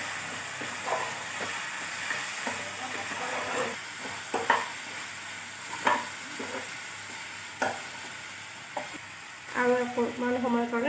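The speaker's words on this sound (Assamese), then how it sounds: "এতিয়া এইখিনি ভালকৈ লাগি দিম যাতে এইখিনিও ইয়াৰ লগত মিহলি হৈ যায়।" Chicken curry with black pepper being stirred in a pan, a spoon scraping and clinking through a steady sizzling fry, with sharper stir bursts near the end.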